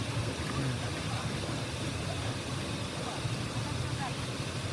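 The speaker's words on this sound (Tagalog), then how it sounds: "Waterfalls." A waterfall at a mountain resort pours in a steady, broadband rushing roar that fills the whole clip, close and continuous with no breaks.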